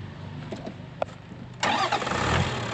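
A vehicle engine cranks and catches after its batteries were recharged, in a remote spot in the Mongolian steppe near Tavan Bogd, then settles into a steady loud running idle that fills the second half.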